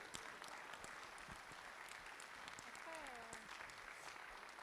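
Applause from an audience at a French New Year's greetings ceremony, a steady dense patter of many hands clapping throughout, with voices talking over it.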